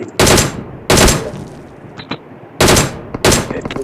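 Automatic gunfire in a battle royale video game: loud, close bursts of rapid shots, a burst near the start and again near the end, with faint distant shots and clicks between.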